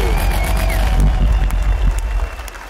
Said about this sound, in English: Everybody give it up for everybody that came on the stage tonight, y'all.